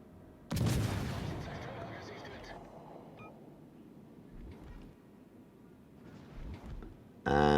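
Naval gunfire from a warship in the game World of Warships: Legends, a loud boom with a long rumbling decay, followed by quieter distant thuds and another sharp blast at the end, with talk partly over it.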